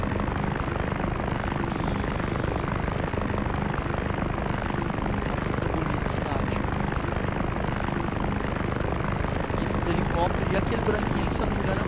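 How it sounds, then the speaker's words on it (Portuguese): Red passenger helicopters fly in the city-building game Soviet Republic, a constant loud rotor thrum and engine whine that fills the scene while someone talks over it. "Esses helicópteros de passageiro vermelho que é fácil de eu saber."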